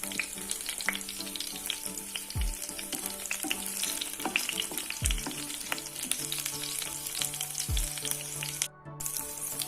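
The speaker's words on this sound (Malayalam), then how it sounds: "ഇതിലേക്ക് ഞാൻ ആവശ്യത്തിന് വെളിച്ചെണ്ണ ഒഴിച്ചിട്ട് അതിലേക്ക് നമ്മൾ തൊലിയൊക്കെ കളഞ്ഞെടുത്ത് വെച്ചിട്ടുള്ള 3 അല്ലി വെളുത്തുള്ളിയും 5-6 ചെറിയ ഉള്ളിയും ചേർത്ത് കൊടുക്കുന്നുണ്ട്." Peeled garlic cloves and small shallots fry in coconut oil with a steady, close hiss, broken by a few soft knocks of a spoon against the pan.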